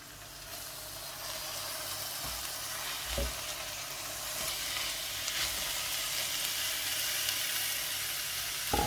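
Chard and onion fry in a pan with a steady, even sizzle, plus a few faint clicks and a low knock, without talk.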